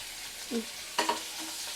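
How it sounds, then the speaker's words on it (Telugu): Onions and curry leaves frying in oil with tempering spices, a steady soft sizzle with a few brief stirring scrapes near the middle. "కొంచెం బ్రౌనిష్ కలర్ వచ్చే వరకు ఫ్రై చేసుకుందాం."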